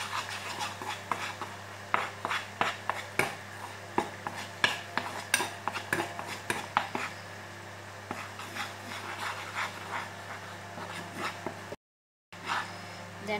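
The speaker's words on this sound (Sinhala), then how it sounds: "ඒක මේ විදිහට හොඳට කලවම් කරගන්නවා." A spoon stirs a creamy chicken soup mixture in a bowl, making steady rhythmic scraping and clinking strokes close by, with a brief silent gap near the end.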